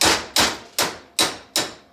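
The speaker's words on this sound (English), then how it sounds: "you can go right ahead and use a metal hammer" A metal hammer drives out a hardened fork bushing, five hard, evenly spaced ringing blows, each one loud and close with a short decay, and no talking.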